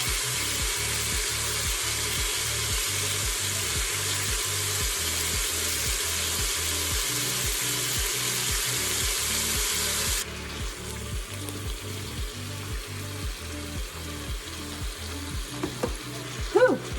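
Onions sautéing in a pot for French onion soup: a steady, close sizzle with a regular pulsing rhythm of stirring, then quieter frying with faint clinks near the end.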